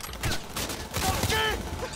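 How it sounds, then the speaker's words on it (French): Gunfire in the video game Cyberpunk 2077: a busy stretch of shots and clattering combat noise over about two seconds, loud and dense, mixed with game effects and tones and no clear gaps between bursts. "Qui s'amuse à tirer?"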